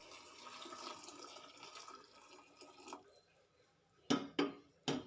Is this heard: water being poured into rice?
yes